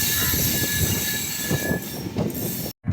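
Train wheels squeal steadily on a curve during a rail journey from Tirupati to Katpadi Junction, a loud continuous screech over rumbling carriage noise that cuts out abruptly near the end.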